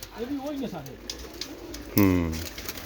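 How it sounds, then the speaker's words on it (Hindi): Hundreds of pigeons in a large loft, about 500 birds, coo in a dense murmur, joined near the end by one loud, close, drawn-out call, while voices speak. "तकरीबन 500 कबूतर हैं ये"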